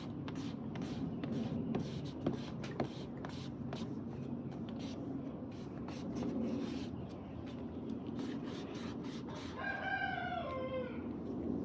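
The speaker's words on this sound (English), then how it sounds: "that rooster is something else" Steady scratching and rustling fill the foreground, then a rooster crows once from a short distance near the end.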